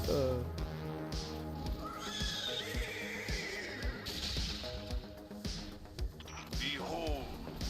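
A horse neighs and whinnies in the video game Destiny, repeated whinnies rising over a busy mix of game music and thuds, with someone talking throughout.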